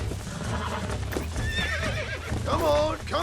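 A horse in the video game Red Dead Redemption lets out a sharp, close whinny near the end, with clopping hooves throughout and a voice talking over the action.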